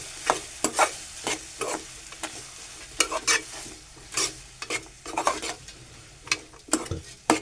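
Onion and tomato sautéing in a pan with turmeric, with a spoon stirring and scraping in quick, irregular strokes over a steady low sizzle, close and clear with no talk.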